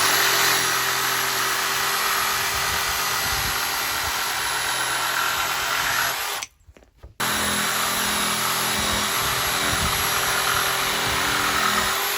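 A jigsaw with a Bosch T141HM1 blade buzzes loudly and continuously while cutting curves in fiber cement board, stops briefly for near silence, then starts up again and keeps running.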